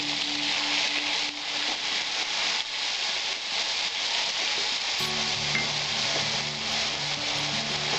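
Eggplant frying with turmeric in a pan for Bengali-style matar shak, giving a steady, close, continuous sizzle with a hissing wash throughout and occasional low stirring scrapes. No one speaks.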